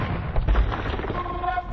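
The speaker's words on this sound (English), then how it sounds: "it releases hand cannons up here and is killing off his opponent's gold miners" Hand cannoneers fire in Age of Empires II, with a short cluster of low booming gunpowder blasts amid battle noise, fairly close and brief.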